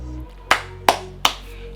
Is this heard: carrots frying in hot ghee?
no